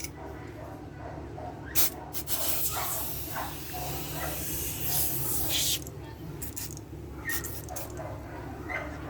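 Foam tire cleaner sprays onto a car tire in bursts of close hiss, with steady background noise and occasional faint voices around it.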